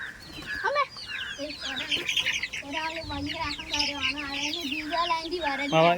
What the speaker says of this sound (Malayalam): അങ്ങനെ എന്റെ കോഴികൾ എന്റെ കയ്യിലോട്ട് വരികയാണ്